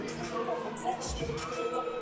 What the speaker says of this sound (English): Got a nice vibe coming through the crowd as well, like anticipation.